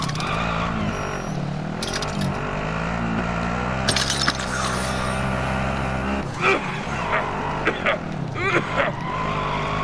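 A car driven in Call of Duty: Modern Warfare Warzone, with a steady engine drone and shifting revs running throughout, a few clatters and bumps, and voices talking over it.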